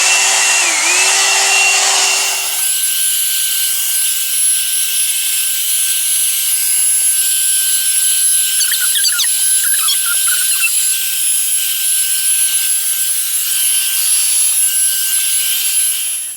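A Revlon One Step hair dryer and hot airbrush volumiser drying hair gives a loud, airy rush at first, then settles into a steady high electric whine with faint fluttering through to the end.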